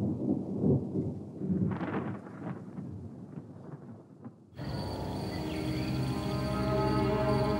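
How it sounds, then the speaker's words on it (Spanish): Deep rolling thunder on a day with no rain, low rumbles swelling and fading, giving way to a steady hiss of insects and wind noise that carries on to the end. "Ese día, hubo mucho trueno pero no una sola gota de lluvia"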